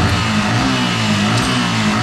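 A Yamaha MT15 motorcycle engine runs loud and steady while warming up, holding a close, even mid-range hum with slight revving and no talk.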